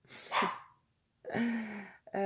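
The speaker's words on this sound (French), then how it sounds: "Peut-être qu'ils me passent leur message, les toutous." Dogs bark in two bursts, a sharp yelp near the start, then a louder harmonic bark after a pause, with a short final bark close by.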